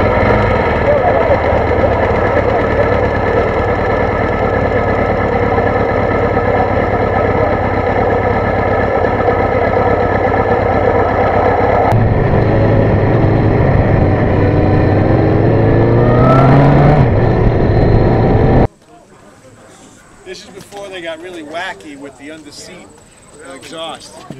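A 1915 Harley-Davidson boardtracker motorcycle engine runs loud and close with a raw exhaust note, idling and revving for about eighteen seconds before cutting off abruptly, followed by quieter talk from people nearby.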